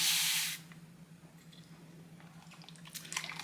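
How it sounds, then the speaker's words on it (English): A small handheld mister sprays water mixed with rosemary mint oil onto hair in one short, loud hissing burst up close, then fades to quiet handling sounds and soft rustling. "my spray bottle today that you saw me using is just my little one from Amazon"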